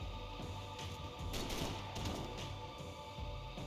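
Bursts of rapid gunfire in the video game Max Payne 3 crack out in a few short volleys, fairly quiet and muffled, with no talking.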